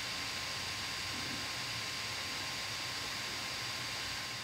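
A GMKtec NucBox G3 Intel N100 mini PC under full load gives off a steady, even fan whoosh, broadband and hiss-like, holding constant throughout with no other sounds.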